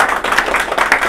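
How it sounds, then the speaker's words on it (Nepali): A Nepali company event audience claps and applauds loudly and steadily throughout, a dense wash of hand claps with no pause. "जोरदार ताली पिट्नु।"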